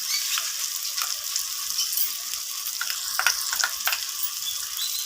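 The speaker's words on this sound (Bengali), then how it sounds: "আদা বাটাটা দিয়ে এরপর আবারও মশলার সাথে আমি কষিয়ে নেব।" Ginger paste and masala sautéing in a pan for chicken curry, with a constant bright sizzle and a few scraping stir strokes, close up and without voices.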